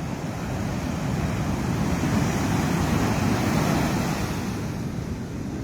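Strong sea waves surging high onto an eroded Kerala shoreline, heard as a continuous loud roaring wash of surf mixed with wind noise on the microphone, with no voices.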